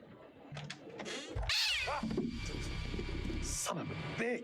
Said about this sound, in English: just a stupid cat